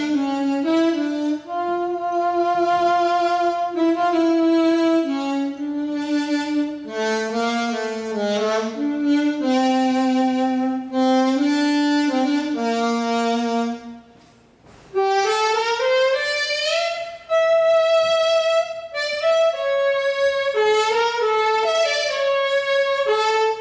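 A LinnStrument synthesizer imitating an alto saxophone plays a continuous melodic line with bending, sliding notes, pausing briefly before a higher phrase resumes.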